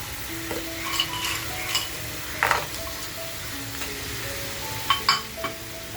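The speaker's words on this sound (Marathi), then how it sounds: "ज्या आपण चिंबोऱ्या घेतल्या त्या याच्यामध्ये टाकून घेऊया" Crabs sizzle steadily in hot oil in a pan for a butter garlic crab dish, with scattered spatula scrapes and clinks as they are stirred, close and without talk.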